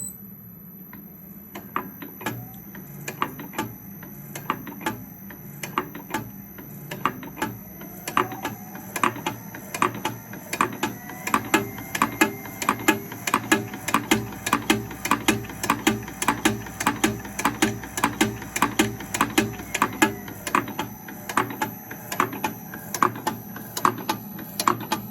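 An Eminence Projectile Sizer 6K machine driven by a variable frequency drive, running alone with a rapid, steady mechanical clatter of sharp repeating clicks over a constant whine, the rhythm quickening and growing louder as it speeds up.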